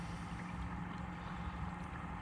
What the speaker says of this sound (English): It sounds like somebody's warming their boat up.